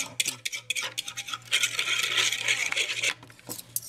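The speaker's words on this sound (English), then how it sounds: "And now I'm just going to whisk it." Caesar salad dressing is whisked in a bowl, a rapid close series of metallic clicks and scrapes in irregular bursts, fuller in the middle stretch, with no talking.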